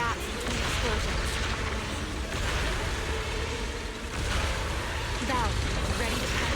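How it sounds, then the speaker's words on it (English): Explosions and artillery fire boom continuously in the video game Zenless Zone Zero during a battle, loud and dense throughout with heavy low rumble and a brief dip midway. "Move in during the gaps between explosions."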